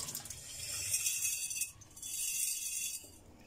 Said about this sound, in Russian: Вот так промываем и опять сливаем воду